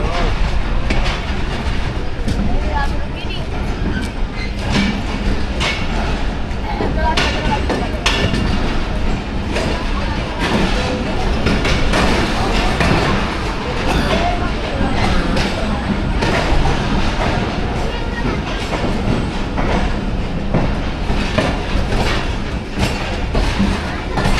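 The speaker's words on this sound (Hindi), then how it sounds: "कोटरी जंक्शन से निकलने के बाद दरियाए सिंध से गुजरेगी हमारी ट्रेन" Shah Hussain Express passenger train running on rails from Karachi toward Lahore, heard from inside as a loud, constant rumble with rapid clickety-clack of wheels over rail joints and occasional metallic rattles, with faint voices underneath.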